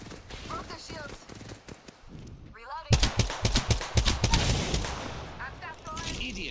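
Rapid automatic gunfire bursts from the video game Apex Legends, loud and close, start a third of the way in, with a voice talking over the firing.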